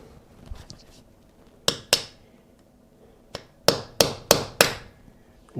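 Small pieces are tapped into place with an old blank screwdriver: two sharp knocks, a pause, then a quick run of five firm taps, close and clear with no talk.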